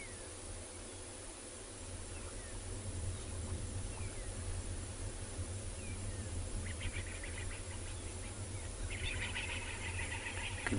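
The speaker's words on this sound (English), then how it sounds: "You can hear some birds making a noise in the distance, probably spooked by something." Distant birds call out on a South African safari reserve at sunset, faint scattered chirps and a brief burst of rapid twittering over steady insect and wind noise outdoors.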